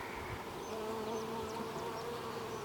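Honeybees humming in an opened, sparsely populated backyard hive, a steady low buzz with a few individual bees darting past close by.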